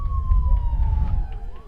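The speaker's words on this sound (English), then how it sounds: "Ambulance goes by Bear Field here." An ambulance siren wails steadily as it passes along a city street beside a college baseball field, its falling tone sustained over low traffic rumble for the whole moment.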